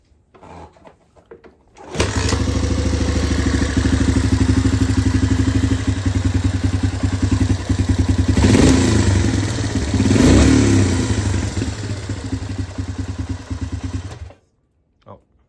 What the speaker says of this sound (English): But that's this one up and running. Again, this was my uncle's 250SX.